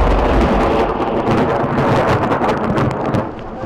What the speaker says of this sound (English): A lightning strike, giving our cameraman a big fright.